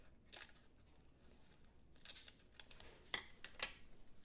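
Scissors snipping through foam tape: a few quiet, crisp cuts spaced apart, close and faint in an otherwise quiet room, with no talk.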